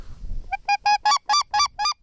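A goose hunting call blown in a string of about seven loud, evenly spaced honks, each short and nasal, clearly imitating a goose up close.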